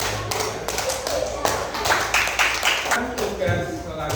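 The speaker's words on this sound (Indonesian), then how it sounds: "tepuk tangan untuk kelompok" Clapping for a student group in a classroom lesson: a run of sharp, uneven hand claps, close and fairly loud, from a small crowd, with voices alongside.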